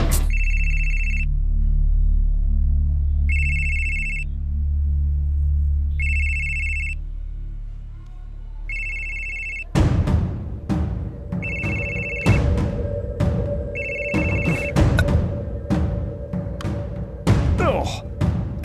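A telephone rings in repeated short bursts, several even rings with pauses between them, over a low hum, then louder clattering and rustling sounds take over while the ringing keeps cutting in.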